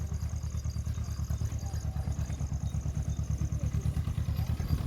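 A tractor engine chugs steadily at close range at night, its low rhythmic throb continuous throughout with a faint high whine above it.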